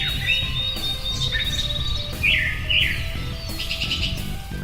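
Several wild birds chirp and trill at dawn in overlapping bursts over a low, steady outdoor hum, with a wild turkey gobbler in a nearby tree and no one speaking.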